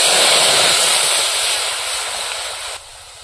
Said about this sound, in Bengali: এবার কড়াইয়ের মধ্যে একটু জল দিয়ে দেবো।